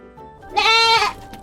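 A goat bleats once, a loud, close, wavering call lasting about half a second over quiet farm background.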